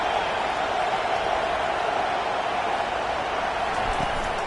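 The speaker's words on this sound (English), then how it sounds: "This crowd bringing an ear-splitting welcome to their visitors." Dense, steady roar of a large stadium crowd at a football game, loud and continuous throughout with no clear breaks, a broad wash of massed voices cheering a visiting team.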